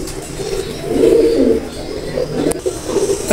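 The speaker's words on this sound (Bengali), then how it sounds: "এই দুটো হলো চুহার কবুতর, চুহা ব্লাড লাইনের কবুতর" Soft, low cooing of Pakistani golden chuha-bloodline pigeons rolls on steadily, with a brief sharp click midway and a faint background hum.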